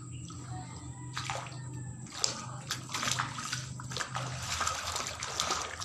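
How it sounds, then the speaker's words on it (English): Floodwater backs up out of backyard drains in a flooded yard in the Philippines, a close, continuous gurgling and trickling with splashy surges. "the drains where the water normally goes down is coming out"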